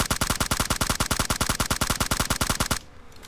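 Rapid automatic gunfire from a rifle fitted with a light grip in PUBG Mobile, a loud fast run of about twenty evenly spaced shots that stops abruptly near the end.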